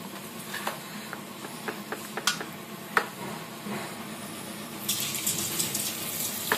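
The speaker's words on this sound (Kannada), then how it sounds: "ಸ್ವಲ್ಪ ಹಿಟ್ಟನ್ನ ಹಾಕಿ ಎಣ್ಣೆ ಕಾದಿದೆ ನೋಡಿ ಈಗ ನಾವು ಇದರಲ್ಲಿ ಸಣ್ಣ ಬಜ್ಜಿಯನ್ನ ಮಾಡ್ಕೊಳ್ಳೋಣ" Small bajji fritters of batter dropped into hot oil, a steady sizzling hiss with scattered pops and crackles, growing brighter and busier near the end; no talking.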